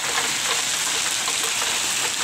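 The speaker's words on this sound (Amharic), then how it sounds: "በረዶ ይታያችኋል ዝናብ እንዴት እንደሚጥል" Steady rain mixed with hail comes down in Ethiopia, a dense, even hiss of falling drops and pellets with no voices.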